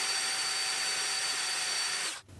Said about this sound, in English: I'm going to switch over to a finer grit of sandpaper.